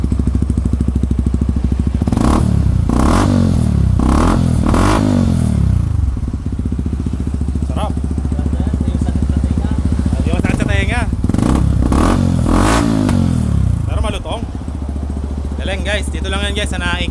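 A Yamaha R15 motorcycle fitted with a Kalkal muffler revs hard in loud repeated bursts beside a highway, its exhaust crackling between blips and settling to a steady idle, while someone talks over it.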